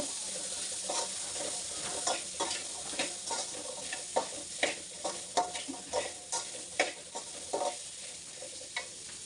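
Chili powder is stirred into peanuts frying in a pan: a steady sizzle underlies a rhythmic series of close scraping strokes from a spoon against the pan, roughly two per second.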